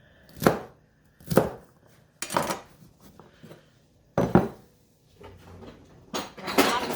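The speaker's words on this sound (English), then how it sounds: "I'm going to cut it into just kind of bite-sized chunks tonight" Knife chopping fresh asparagus stalks into bite-sized chunks on a cutting board, a series of distinct close thuds and clacks in short bursts, with no talking.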